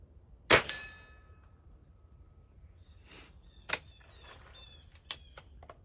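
A Gamo Shadow Whisper air rifle fires Gamo Tomahawk pellets: a sharp, close crack with a short ringing tail, then two lighter snapping shots a few seconds apart, with quiet pauses between them.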